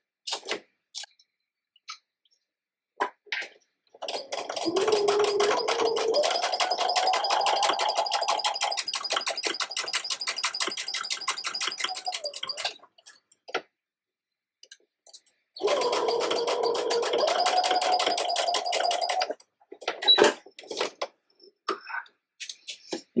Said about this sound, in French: on peut coudre au point droit classique à 5 mm du bord